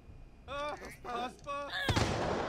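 A single sharp gunshot in The Sims 4, a loud close burst near the end that follows brief game voices speaking in short bursts.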